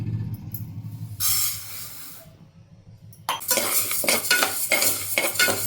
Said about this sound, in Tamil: ஒரு கிளாஸ் பாசிப்பருப்பு எடுத்துருக்கேன் இதை வறுத்துக்கலாம்